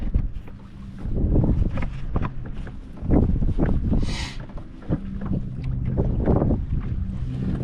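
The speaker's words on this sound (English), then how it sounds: "I'm getting blown all over the place with this wind." Wind gusting over a creek while fishing from a small boat, rough buffeting microphone rumble in repeated surges with faint water movement.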